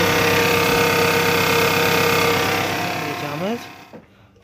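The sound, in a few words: Toyota Camry 35 2.4 2AZ engine running with knock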